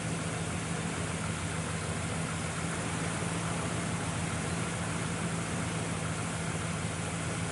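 A rebuilt 1971 Chevrolet Monte Carlo V8 with matching numbers idles steadily in a low, continuous rumble, close by and unbroken, with no voices over it.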